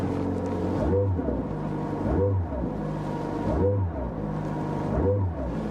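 McLaren 600LT Spider engine revving in repeated bursts, four rises and falls of exhaust roar about every second and a half, close and steady in level with no talk.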